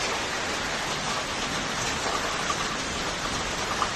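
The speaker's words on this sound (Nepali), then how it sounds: "यता त असिना पानी आयो" Hail and rain pelt down in a dense, steady hiss of patter that stays even and unbroken from start to end.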